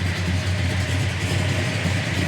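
Big block 396 V8 in a 1969 Chevrolet Chevelle SS convertible idling through dual exhaust, a deep, steady rumbling burble close by.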